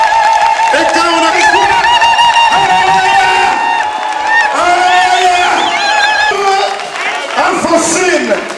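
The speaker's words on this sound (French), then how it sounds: "Mais je veux qu'on acclame le Seigneur pour ces couplets. Acclamons-les." Wedding guests at the marriage of Joseph and Alphonsine cheer and acclaim loudly together, a sustained crowd roar with whoops and shouts layered over music, steady and close throughout.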